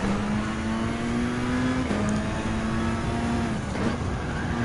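Audi S1 Pikes Peak 1987 rally car racing on tarmac in Gran Turismo 7, its engine holding a steady high drone with two brief gear-shift dips, close and continuous.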